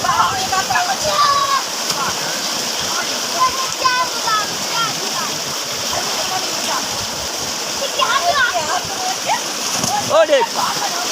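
Children splashing and bathing in water on a hot day, a steady wash of running, splattering water with shouting children's voices above it throughout.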